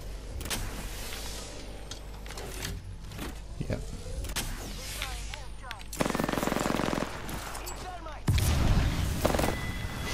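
Weapon fire in the battle-royale shooter Apex Legends while playing as Octane, with bursts and impacts amid a busy, layered game soundscape and loud stretches of firing near the end; a player talks over it.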